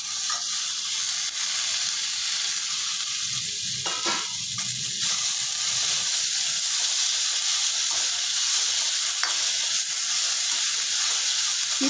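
Tomatoes sizzle steadily in a hot frying pan while a Kumbakonam kadappa is being cooked, a continuous close hiss with a few faint stirring clicks partway through.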